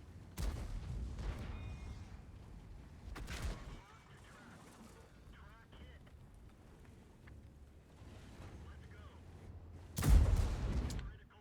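World of Tanks tank gun firing HE rounds, three loud booming shots spaced several seconds apart with rumbling decay, someone talking quietly between the blasts.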